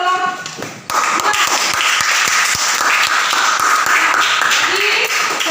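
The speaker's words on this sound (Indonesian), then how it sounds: "Ya, tepuk tangan untuk kelompok 2." Sixth-grade primary school classroom applause for a student group: after a brief spoken lead-in, a loud, dense burst of clapping from many children continues steadily to the end.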